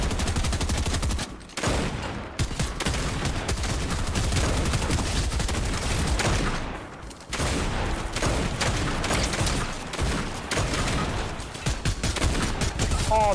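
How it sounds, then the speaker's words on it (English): Heavy, sustained gunfire in Fortnite as the player is being shot, rapid automatic bursts that run nearly nonstop with brief gaps, loud and close, with a voice talking beneath the shooting. "Uh-oh, I'm getting shot."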